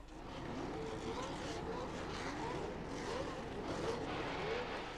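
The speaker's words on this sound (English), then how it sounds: "as the field roared through the dips of the Dijon circuit for the first time" Formula 1 race cars from 1979 roar together through the dips of the Dijon circuit just after the start. The engine noise is a dense, steady blare with rising and falling tones, heard from a distance.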